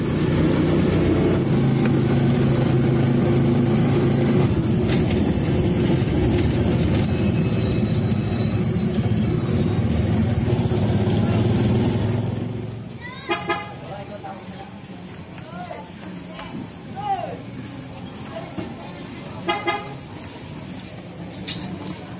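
Ride in a tricycle through traffic toward the pier, a loud steady engine rumble for about twelve seconds that then drops away, with horn toots and people talking over it.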